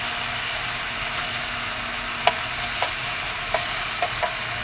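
Tomatoes sizzle steadily in a hot pan, a constant frying hiss broken by a few soft clicks of a utensil stirring and scraping, with no voices.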